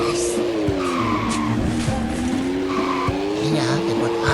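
A car drifting across desert terrain in Super Bear Adventure gives a continuous wavering tire squeal over an engine drone, loud and close, with a voice talking over it.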